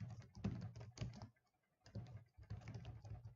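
Typing on a computer keyboard while coding an Android app: rapid clusters of key clicks in uneven bursts, with a short pause in the middle, close and quiet.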